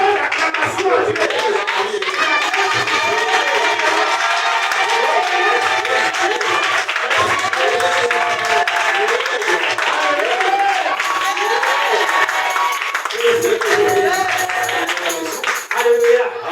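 A church congregation clapping and acclaiming in loud, continuous cheering with many overlapping voices crying out and rhythmic clapping beneath, crowded and sustained across the whole span.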